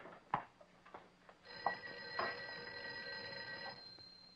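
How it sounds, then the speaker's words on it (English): An office telephone bell rings in a sustained, steady trill after a few soft knocks and thumps, fairly faint against a quiet room with no talking. "I think your phone is ringing"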